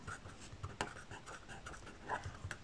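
A pen scratching on paper during a class 3 maths lesson, with a quiet, close series of short scribbling strokes and faint taps, no talking over it.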